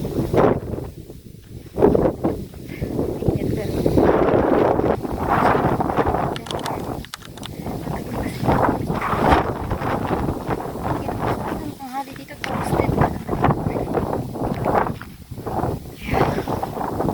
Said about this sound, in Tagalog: Ngayon pa nga lang mainit na. Pero mahangin.